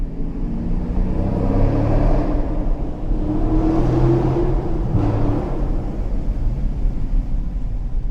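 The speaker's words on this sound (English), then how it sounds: "I'm gonna see if you guys can hear just the engine." A Hemi V8 car engine, 5.7L or 6.4L Scat Pack, rumbles steadily with a deep low drone, revving up and easing off in third gear over several seconds, heard from close by with no talking.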